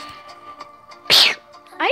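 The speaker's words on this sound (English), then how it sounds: "I gotta sneeze" A person lets out one loud, sharp sneeze midway through. Faint background tones sit under it, and a short squeaky chirp follows.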